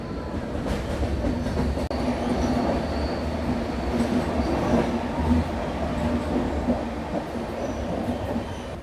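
A passenger train on the Visakhapatnam to Araku line rumbles along, heard from onboard as a continuous, steady roll of wheels and carriage noise with faint rattling and squeal, no voices.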